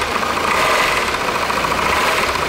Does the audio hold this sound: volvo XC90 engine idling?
yes